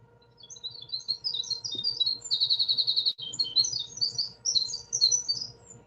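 A forest bird sings a long, high-pitched, complex warbling song, clear and fairly close, with rapid trilled phrases and a brief buzzy run in the middle, continuing for several seconds over faint low background hum.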